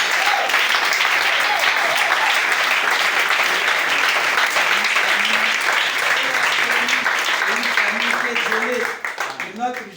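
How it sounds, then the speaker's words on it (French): A church congregation applauds loudly and continuously, dense clapping filling the room before it trails off at the end, with a few voices mixed in. "Acclamez un très fort."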